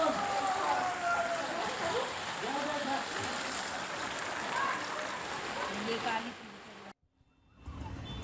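Heavy non-stop rain pours down on a flooded, traffic-jammed street in Bhiwandi, Thane, a steady dense wash of water that runs continuously before briefly dropping away near the end.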